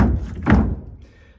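A plywood seat panel inside a Pearson Ensign sailboat is lifted and shifts, making one loud, hollow wooden thunk up close that quickly fades into quiet.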